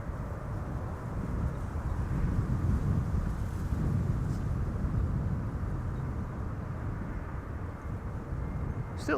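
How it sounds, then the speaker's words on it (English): Steady breeze rumbling across the microphone at Amsterdam Schiphol Airport, a continuous broadband wash that gently swells and eases, with a faint distant aircraft drone beneath and no talking. "Still an occasional breeze,"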